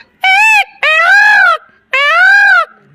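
A man imitates a peacock's call with three loud, drawn-out wailing cries, each a rising then falling nasal yell separated by brief silences.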